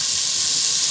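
A loud, steady hiss as peas go into fried masala in a hot pot, a continuous close sizzle with no pauses over a brief moment.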